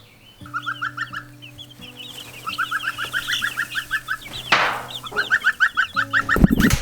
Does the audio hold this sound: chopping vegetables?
no